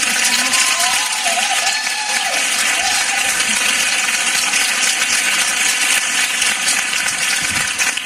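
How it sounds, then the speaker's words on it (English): Sustained, dense applause from a 1995 stand-up comedy club audience, loud and steady throughout with a few whoops and crowd noise mixed in. "You cannot keep applauding."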